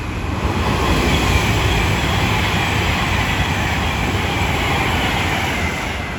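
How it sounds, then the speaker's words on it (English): An Avanti West Coast express from London Euston to Glasgow Central roars through Milton Keynes Central station on the West Coast Main Line, a loud, sustained broadband rush of wheels and air that holds steady for several seconds before easing slightly. "Soon to pass through now will be a Avanti West Coast service going from London Euston to Glasgow Central."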